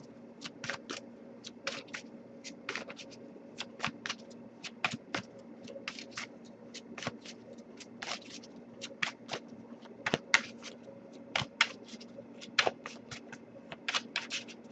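Rapid, crisp riffling and soft slapping of tarot cards being shuffled over and over, close up and fairly quiet, in an irregular rhythm with no talking.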